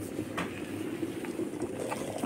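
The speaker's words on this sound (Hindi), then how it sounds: "पानी बॉयल हो गया," Water boiling inside a Vista electric kettle, a steady low rumbling roil with a faint hiss, close and continuous throughout.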